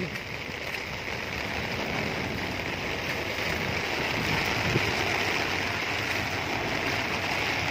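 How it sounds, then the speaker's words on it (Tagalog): Steady, loud rush of water during heavy rain fills the whole stretch, a constant broadband roar like a strong current or torrent nearby, with no pauses. "Lakas ng agos ng tubig."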